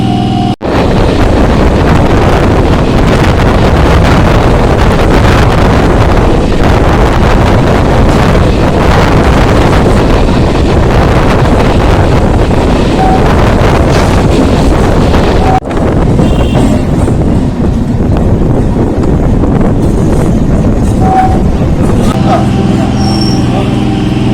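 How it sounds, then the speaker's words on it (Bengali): A Kolkata suburban local train pulling into Madhyamgram station, recorded on board: a loud, continuous rumble with heavy wind buffeting against the microphone, steady throughout. "এখন আমাদের ট্রেন এসে পৌঁছালো মধ্যমগ্রাম"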